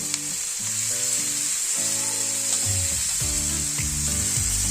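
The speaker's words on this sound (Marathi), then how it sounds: "त्याच्यामध्ये ते कोलंबी टाकायची. थोडंसं परतून" Fresh prawns sauté in a pan with a steady, loud sizzle and crackle running throughout, under a rising and falling background hum.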